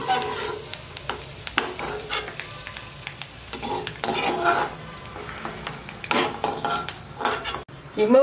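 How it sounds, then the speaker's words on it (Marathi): Peanuts fry in hot oil in a pan, a steady soft sizzle broken by frequent clinks and scrapes of a spoon stirring against the metal. "सुरुवातीला शेंगदाणे तळून घेऊ शेंगदाणे चांगले लाल रंगावर तळायचे"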